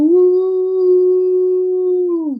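A human voice imitates a coyote howling: one sustained, steady, tonal howl held for about two seconds, then sliding down in pitch at the end, loud and alone.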